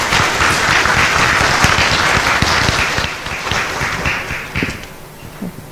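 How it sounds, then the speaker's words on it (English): An audience at a universal health coverage conference gives the panelists a dense round of applause that starts loud and steady, then thins and fades toward the end. "how about a big round of applause to the panelists"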